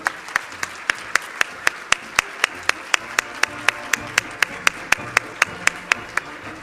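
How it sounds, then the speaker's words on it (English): Applause for the winners of a collegiate research paper competition, heard as a steady run of about twenty evenly spaced sharp claps close to the microphone. A faint murmur of voices sits underneath. "Please give them a big applause"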